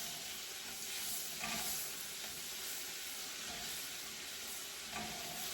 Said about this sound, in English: that bacon is still frying